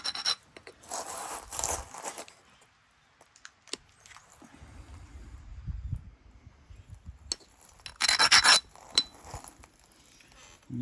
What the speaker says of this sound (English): It's important to get the edge of your abrader down in there and get that lateral grind on that very edge in there.